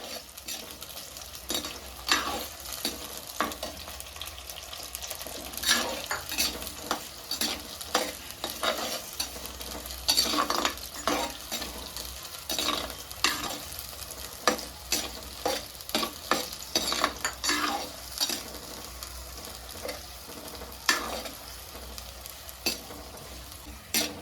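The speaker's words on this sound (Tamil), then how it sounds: "இப்போ நான் வெங்காயம் சேர்த்துக்கிட்டேன், கருவேப்பிலையும் அது கூட சேர்த்தாச்சு. நல்லா வதங்கட்டும்" Onions and curry leaves sautéing in oil for a fish curry, with continuous soft sizzling broken by frequent scraping stirs of a spoon against the pan, close and fairly quiet throughout.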